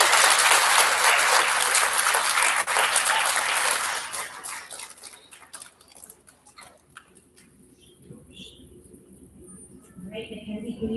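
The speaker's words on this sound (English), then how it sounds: "Big round of applause for our fourth graders." Audience applause for fourth graders at an elementary school student recognition ceremony, loud sustained clapping that fades out midway, then quieter room noise and scattered sounds.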